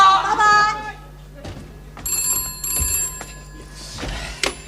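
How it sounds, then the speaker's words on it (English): A telephone bell rings in two bursts with a short pause between them, alongside a brief voice and some light room noise. "Oh, there's the phone."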